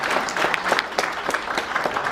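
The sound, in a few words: audience applause after a lecture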